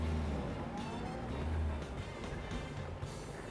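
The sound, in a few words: small classic car driving off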